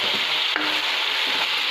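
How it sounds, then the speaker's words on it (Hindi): Beef sizzles loudly and continuously in a hot pan for shinwari seasoned only with black pepper and salt, with a spatula scraping through the meat once or twice over the constant frying hiss. "इसको अच्छे से मिक्स कर लेंगे।"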